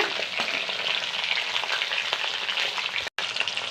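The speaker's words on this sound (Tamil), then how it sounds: "ஜீரகம் பொரிஞ்சிருச்சு அடுத்து வெள்ளைப்பூடை போட்டுருங்க வெங்காயம் போட்டுருங்க பச்சை மிளகாவை போட்டுருங்க" Garlic, onion and green chilli sizzle and crackle in hot oil with cumin for an anchovy fish curry, a loud, steady close-up frying hiss with faint stirring.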